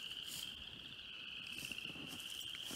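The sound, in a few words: frogs calling in the woods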